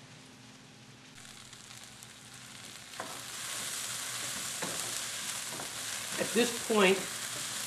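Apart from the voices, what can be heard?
carrots, celery and onions sizzling as they brown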